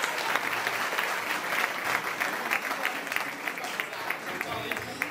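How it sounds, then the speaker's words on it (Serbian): Applause from a crowd at an outdoor community sport and peace-run event in Belgrade, steady dense clapping lasting several seconds, fairly loud and close, with voices mixed in. "ja bih još jedan aplauz za njega"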